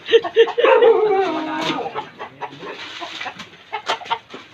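A fighting rooster, a gamecock kept for cockfighting, clucks nearby in a quick series of short calls that are louder at first and then thin out into softer scattered clucks.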